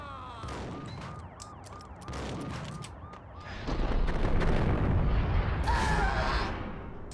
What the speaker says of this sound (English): this is what it looks like when you actually shoot dodge